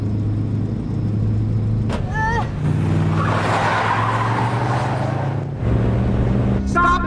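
Car in a film races ahead with its gas pedal held down, a steady loud engine roar joined by tire squeals, with brief voices heard over it.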